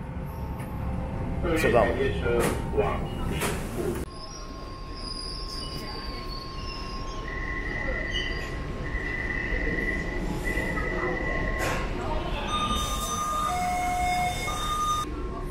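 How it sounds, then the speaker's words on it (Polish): A Taipei metro train pulls in with loud wheel squeal and brake screech, then rumbles steadily while riding, with high whining tones and a brief spoken remark at the start. "nasz pociąg przyjechał. Pociąg metra."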